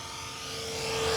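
A Blade S330 RC helicopter flying in calm sunset air gives a steady mechanical whine and hum that rises slightly in pitch over a brief moment.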